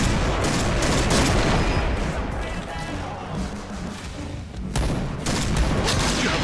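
Gunfire in a multiplayer video game shooter, with dense bursts of rapid shots and crashing impacts filling the clip, loud and continuous with brief lulls.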